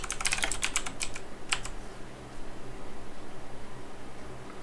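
Computer keyboard typing a search for a VS Code extension: a quick burst of close, crisp key clicks in the first second, a couple of isolated taps after, then a soft steady hum with no speech.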